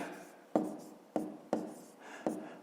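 Pen or chalk writes by hand while maths is worked out, faint scratchy strokes with four sharper taps spaced about half a second apart, quiet and close with no talk.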